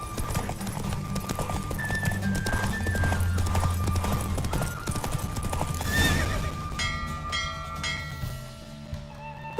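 A horse in Witcher 3 gallops with steady rhythmic hoofbeats and gives a clear neigh partway through, set among game sounds and ambient music.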